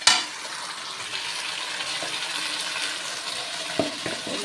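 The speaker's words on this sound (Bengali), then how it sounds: "এই যে মশলাটা কষা হচ্ছে" Ground spice paste of ginger, garlic, dried chili and cumin frying with lightly fried onion in a pan for a low-oil chicken curry, giving a steady close sizzle with a few faint stirring clicks and no talk.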